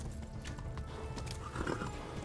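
Horse hooves clip-clopping at speed in the medieval video game Kingdom Come: Deliverance, a fairly faint rhythmic run of hoofbeats with a brief whinny-like sound.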